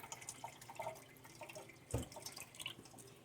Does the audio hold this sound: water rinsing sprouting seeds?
yes